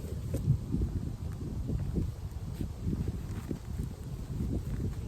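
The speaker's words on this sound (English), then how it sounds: "It's a little windy today." Steady low rumble of wind buffeting a microphone outdoors beside beehives, gusting and roaring continuously close up with no voices.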